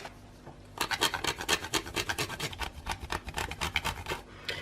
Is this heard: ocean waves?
no